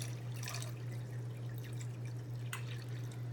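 Water trickles and drips as it pours into the rear filter section of an Imagitarium deluxe freshwater aquarium. A soft, steady splashing runs over a constant low pump hum, with a few sharper drips.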